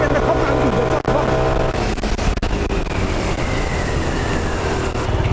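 A VJR scooter fitted with a 61 cylinder kit and a replacement fuel-injection computer revs at full throttle, a loud, steady, continuous engine roar with almost no letup.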